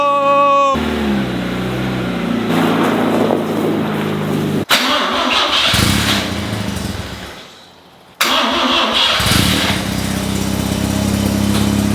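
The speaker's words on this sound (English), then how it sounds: "I'm not sure if the Miata is going to start." A Mazda Miata engine starts up close by and runs loudly and roughly. The sound cuts out briefly, dies away, then the engine catches again and keeps running. No one speaks.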